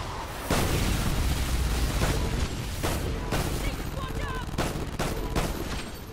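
Rapid automatic gunfire from a high-damage weapon in Call of Duty Ghosts Alien Extinction mode, continuous loud bursts with sharp repeated shots throughout, over a layer of game effects and a voice talking.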